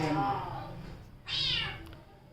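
A cat meows indoors in a room, two drawn-out cries close by with a short pause between, faint room noise underneath.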